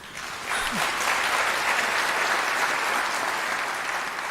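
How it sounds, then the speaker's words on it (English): Clapping swells from a large audience at a Unisa autumn graduation ceremony, rising within the first half-second into a broad, even wash of applause that holds steady and eases only slightly at the end. "that I will ask you to applaud"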